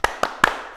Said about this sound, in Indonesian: Kita mau tepuk semangat bareng-bareng.